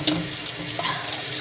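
Water pours steadily from a kitchen sink tap into a cup, a brief, close hiss with no talk.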